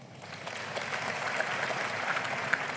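Church congregation clapping during a sermon, a steady wash of hand claps holding at an even level throughout, with no voices over it.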